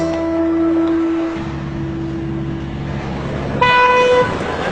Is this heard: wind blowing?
no